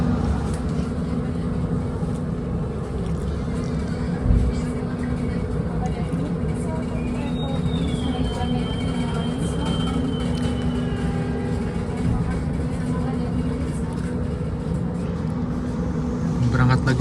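Mutiara Selatan premium economy train leaving Mojokerto station on the Surabaya–Jogja line, heard from inside as a steady low rumble with a rhythmic rattle of rolling wheels. A voice talks over it now and then.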